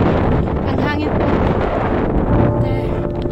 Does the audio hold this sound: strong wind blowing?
yes